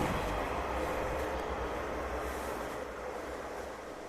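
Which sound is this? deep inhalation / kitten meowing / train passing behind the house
train passing behind the house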